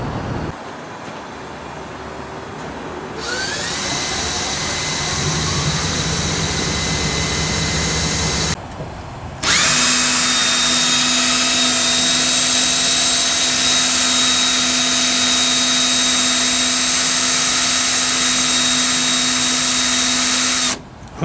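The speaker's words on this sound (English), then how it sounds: "we could center punch them and then drill them right in the center" A power drill bores through sheet metal during a Rock-afire Explosion animatronic restoration, giving a loud, high whining grind that runs steadily, breaks off briefly, then resumes even louder for over ten seconds before stopping.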